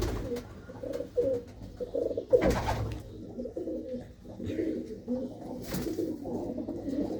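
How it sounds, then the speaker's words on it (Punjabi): Soft, repeated cooing of pigeons close by at a home loft in Daudhar, low throaty calls rising and falling, with some faint background voices. "ਬਾਈ ਹੁਣਾਂ ਦੇ ਕੋਲ ਕਬੂਤਰ ਹੈਗੇ ਨੇ"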